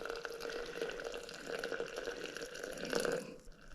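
Water pours steadily into a vessel for tea with a bubbling, gurgling trickle, close and fairly quiet.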